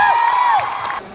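Crowd at a Lulu Mall program with Jayaram breaks into a loud, dense burst of applause and cheering, topped by a sliding whistle-like shout, easing slightly toward the end.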